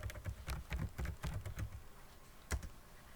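Short bursts of typing on a computer keyboard, a quick run of close, crisp key clicks followed by a few isolated taps and a pause, with no talking.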